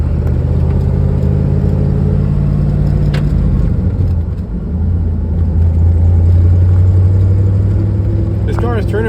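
A 1980 Corvette with its T-top off cruises along, its engine droning steadily with a deep rumble and road noise, pitch shifting midway as it changes speed, close and loud throughout.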